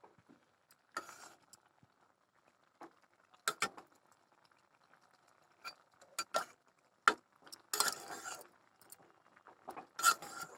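A spoon stirs Malabar spinach and shrimp curry in a lidded pot: faint, scattered clinks and soft scrapes come at irregular intervals, close but quiet, with near-silence between them.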